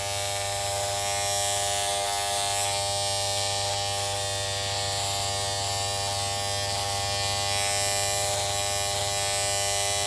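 Electric hair clippers hum steadily and loudly throughout, with slight changes in tone as they move through hair.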